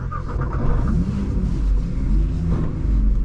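A Nissan GT-R R35 engine starting, heard from inside the car: a brief crank gives way to a deep, loud, steady idle rumble that fills the cabin.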